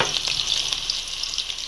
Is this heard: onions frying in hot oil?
yes